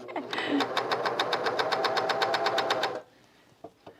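A sewing machine stitches a garment seam, a steady rapid run of needle strokes for about three seconds before stopping, with faint sounds after.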